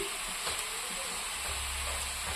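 Shrimp and red amaranth stems fry in a pan while being stirred, producing a steady close sizzle and hiss with occasional scraping strokes and no voices.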